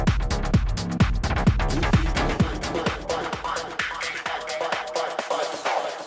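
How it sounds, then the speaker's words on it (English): An electronic track run through a one beat DJ echo effect, steady kicks with repeats trailing after each hit, dense and continuous without any talk. "And the one beat echo sounds like this."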